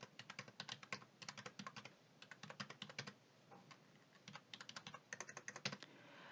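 Rapid keystrokes on a computer keyboard as spreadsheet data is entered in Excel, coming in quick clattering bursts separated by short pauses, close and clear with no talking.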